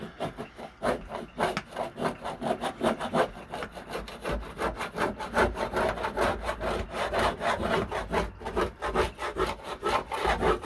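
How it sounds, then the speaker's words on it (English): A hand tool scraping a surface during bathroom DIY work, making a steady run of rhythmic rasping strokes, close and fairly loud, with no voices. "we're just going to put this in here and start scraping"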